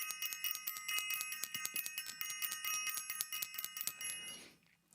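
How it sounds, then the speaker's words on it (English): A small bell rung rapidly and repeatedly, bright metallic dings in a quick steady rhythm that trail off into a fading ring. "Let me start out by ringing the bell for self invested."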